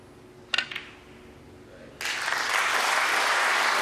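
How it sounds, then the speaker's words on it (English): A snooker crowd at the English Open breaks into applause for a century break, a few ball clicks first, then sustained clapping swelling in and holding steady across the hall. "Richly deserved applause. That's a fine century break from the underdog."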